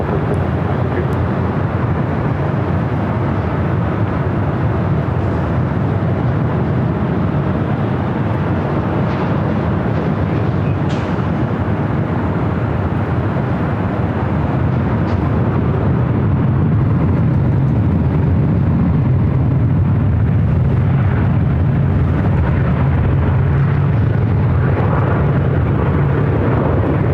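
Delta airliner taking off from runway 24 left at LAX, a loud, sustained jet engine roar that swells steadily over nearly half a minute, with faint radio voices in the background.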